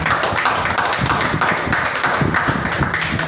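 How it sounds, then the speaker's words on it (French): A church congregation claps together, a dense, lively patter of many hands filling the room at close range, with no talking. "Alors, acclamez pour vous-même d'abord."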